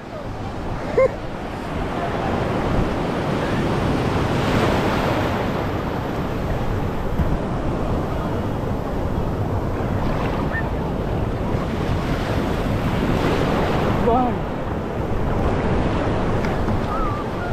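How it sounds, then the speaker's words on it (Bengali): Big sea waves break and surge onto Puri beach, a loud continuous roar of surf with wind buffeting the microphone and swells cresting every few seconds. "আরো বড় বড় ঢেউ আসছে, ওই দেখো।"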